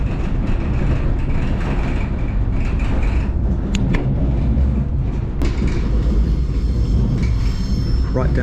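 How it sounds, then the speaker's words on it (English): A Melbourne suburban train on the Belgrave line rolls through a station with a loud, steady rumble. Metallic wheel squeals and a few sharp clanks ring out over the noise, and no one speaks. "2 minutes, our train to Belgrade will arrive"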